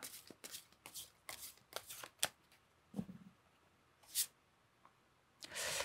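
Tarot cards being shuffled and laid out, a series of soft, close riffling and sliding swishes with sharp snaps as cards hit the table, irregular bursts separated by quiet gaps, at low volume with no talking.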